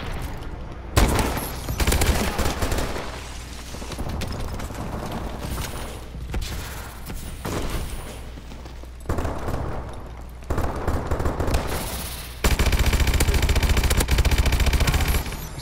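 Sniper rifle gunfire in a video game free-for-all match, with sharp shots and bursts of gunfire among continuous game noise, loud and close, with a few quieter gaps.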